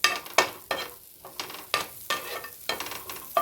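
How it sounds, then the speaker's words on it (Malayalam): Grated coconut roasting in a hot pan for jackfruit erissery, stirred repeatedly: sharp scraping sizzles come in regular bursts about every third of a second, close and fairly loud, with no voices. "തേങ്ങയൊന്ന് വറുത്തെടുക്കാവേ."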